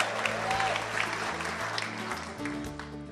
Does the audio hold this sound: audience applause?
yes